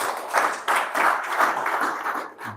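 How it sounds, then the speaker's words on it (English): A short burst of audience clapping after a team-building and motivation presentation, fairly loud and dense with slight surges, then tapering off near the end. "Another round of applause, please."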